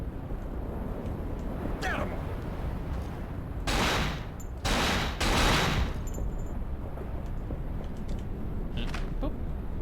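Bursts of gunfire from the survival-horror game Cold Fear erupt in a few loud, broad blasts mid-clip over a constant rumbling background, with a voice heard in the mix.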